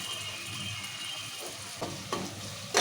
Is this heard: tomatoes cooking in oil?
yes